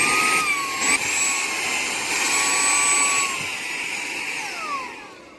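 A SAKAKI cordless handheld mini car vacuum cleaner runs on its high setting, a steady loud whining motor hum with slight pitch shifts and a brief dip, close and alone.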